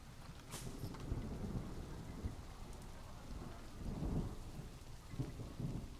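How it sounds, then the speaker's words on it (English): Thunder rumbles over steady rain drumming on surfaces in a zoo-building video game park with no roof, with low booming swells recurring every second or two beneath the constant downpour. "Oh, it is raining."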